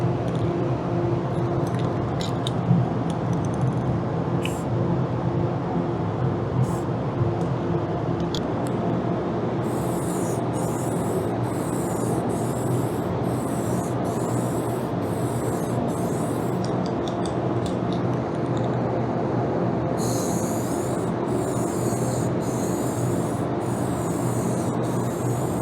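Dupli-color 1K clear coat sprayed from a rattle can, giving a steady hissing spray in several repeated bursts over a constant loud background rumble.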